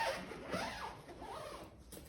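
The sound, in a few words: zipping up a travel bag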